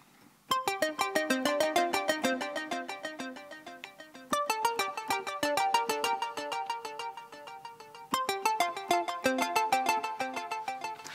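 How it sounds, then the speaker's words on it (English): Roland Alpha Juno 2 synthesizer part with a fast, bright arpeggiated sequence of plucky notes repeating in three phrases, moderately quiet and without voices. "So that Alpha Juno sound is being introduced here"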